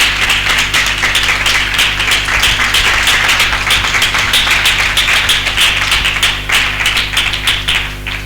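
A large congregation at a Christian worship gathering claps loudly and steadily throughout, a dense, sustained round of applause with a constant low hum underneath.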